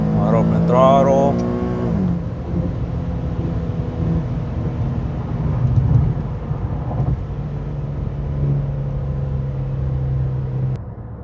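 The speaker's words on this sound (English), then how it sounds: "Wide open throttle." Infiniti G37 engine pulling hard at wide open throttle, a steady loud drone of rising engine tone that fills the clip, with a brief bit of talk at the start.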